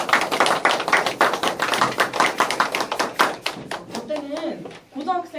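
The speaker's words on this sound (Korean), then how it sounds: "그래도 3분씩 3번씩 다 발언을 해낸 친구들에게 박수" Audience applause for elementary school students after a round-table debate, lively rapid clapping from a room of people that thins out toward the end as children's voices rise over it.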